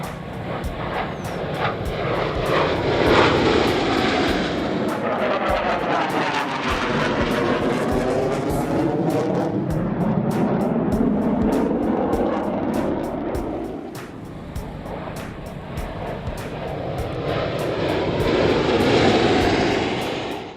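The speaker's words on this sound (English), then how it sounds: "For extra speed, this jet is dumping fuel from the jet engine, creating a huge flame called an afterburner" Military jets flying in formation, a loud sustained engine roar with sweeping, shifting tones as the aircraft pass, swelling again near the end, with no voices.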